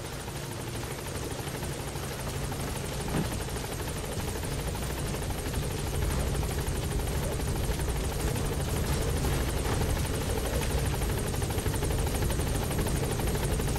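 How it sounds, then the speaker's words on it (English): A support helicopter in Metal Gear Solid V arrives, its rotor thudding and engine whining loudly and steadily throughout, close and unbroken, with no talk over it. "Support helicopter has arrived."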